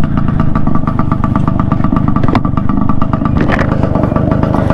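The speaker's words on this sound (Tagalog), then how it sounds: "may order na ako niyan ng silencer para medyo mapatahimik ang ating Suzuki X4." A newly rebored Suzuki X4 two-stroke motorcycle engine runs close by without a silencer, giving a loud, rapid popping and rattling beat with slight revving, and no talking.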